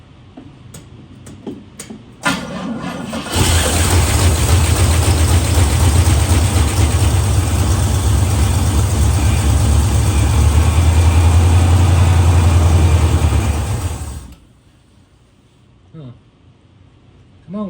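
An aircraft engine that sat parked for 30 years cranks briefly, then catches and runs loud and steady for about ten seconds before cutting out, with faint voices before and after.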